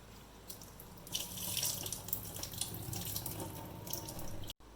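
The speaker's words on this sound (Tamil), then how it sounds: "அப்புறம் தண்ணி ஊற்றி உளுந்து நல்லா கழுவிடணும்." Water pouring from a tap into a vessel while urad dal is washed for idli batter: a steady splashing gush with swirling and rinsing surges, close and fairly loud, no voices.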